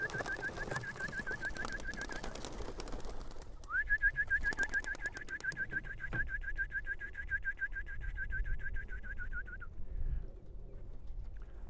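Racing pigeons coo and flutter nearby as they are released from a loft, while a steady high whistling tone runs through most of the clip, with rustling and clattering in the background.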